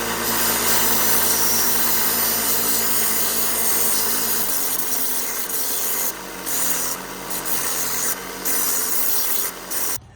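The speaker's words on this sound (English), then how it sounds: "The rust was just a little bit too much for the fabric wheel over there on my little 3-inch grinder, so I decided to use the sander here" A power sander grinds rust off a vintage 1940 Remington RH-71 knife, a loud continuous abrasive rasp that eases and then breaks into short bursts as the blade is lifted and pressed back.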